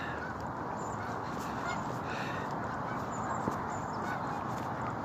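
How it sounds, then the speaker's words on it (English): A dense, continuous chorus of geese honking from a flock, steady and loud throughout, with no pauses or talk. "the ever so present noise of geese"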